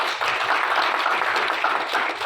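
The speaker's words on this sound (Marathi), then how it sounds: "सरांसाठी एकदा जोरदार टाळ्या" Dense audience applause rings out loud and steady from many hands, filling the whole stretch without a break.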